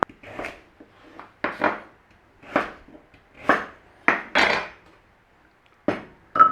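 Turnip being cubed with a knife right in the pan, a series of irregular, distinct knocks and clinks of blade on metal, each chop separated by short quiet gaps.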